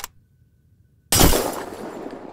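A glass window is smashed in the game Unturned II: a sudden loud crash after a second of near silence, followed by a spreading, fading scatter of shards.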